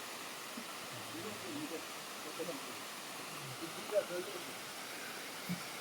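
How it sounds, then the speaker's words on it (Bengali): A small mountain waterfall tumbles down from a height on the Pindari Glacier trek, giving a steady, faint rushing wash of water throughout, with a few soft knocks rising above it. "ঝর্ণা দেখাচ্ছি ছোট্ট ঝর্ণা পাহাড়ে সেই উঁচু থেকেও নেমে আসছে"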